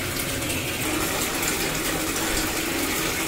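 A bathtub fills from the tap with a steady, close rushing and splashing of water that stays even throughout, with no talking.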